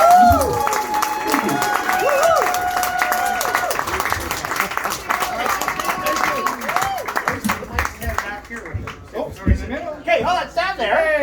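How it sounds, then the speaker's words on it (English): Audience at a comedy show applauding a woman, with broadband crowd clapping and some cheering running steadily throughout, while voices are heard over the noise. "Round of applause for her."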